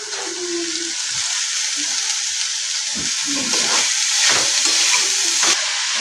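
Cauliflower fries in a pan with a continuous bright hiss and sizzle, broken by occasional soft stirring scrapes.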